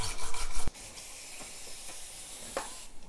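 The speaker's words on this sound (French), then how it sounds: "Je vais d'abord nettoyer à la brosse métallique le tour" A wire brush scrubs around an engine part in close, rough rasping strokes, a few louder bursts at first and then quieter brushing with occasional scratches.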